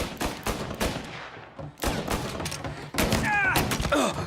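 Gunfire in the video game Mafia Definitive Edition: several loud, close bursts of rapid shots with heavy thuds, separated by brief gaps, ending in a whining ricochet-like tail.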